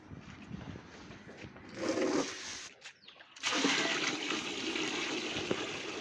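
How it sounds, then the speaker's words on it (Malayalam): Water pouring into a 20-litre bucket for a plant fertiliser mix, a steady close gushing rush that briefly stops and then resumes fuller and louder. "അതിനുശേഷം ബാക്കി വെള്ളം നിറച്ച് കൊടുക്കാം"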